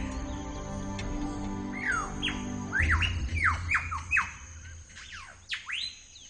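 A male superb lyrebird mimics other birds' calls, a varied string of whistles, squawks and sharp chirps coming in quick bursts, close and clear over a low background rumble.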